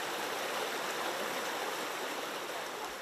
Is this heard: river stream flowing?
yes